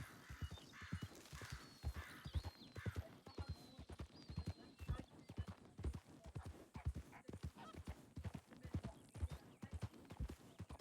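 Horse hooves clip-clop at a steady trot in a Western video game, loud and close with a brisk, even rhythm throughout, with occasional faint bird calls and other game ambience in the background.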